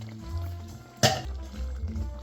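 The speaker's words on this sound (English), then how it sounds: "now we are going to add a can of baby corn" Canned baby corn tipped from the can into a pot, a quiet lead-in broken by one sudden wet splash and slosh as the liquid and cobs land, then low settling sounds.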